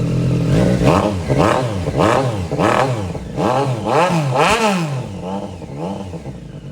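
A 2018 Triumph Street Triple RS 765 motorcycle engine revving repeatedly, with about seven sharp rising-and-falling blips in quick succession, loud and close, over a rough idle with no talking.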